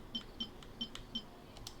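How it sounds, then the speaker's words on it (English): Akasha terminal prompt beeps in the video game Genshin Impact: short, faint electronic tones repeating in a quick, even rhythm, about four bleeps, alone against a quiet background. "The beep is a prompt tone for Akasha operations."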